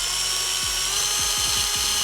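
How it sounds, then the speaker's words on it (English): A steady, loud high-pitched whine from an electric drill boring a hole through a box for a shop heater thermostat build, running continuously with faint clicks and knocks underneath. "I will be drilling into both the bottom of the box and the side."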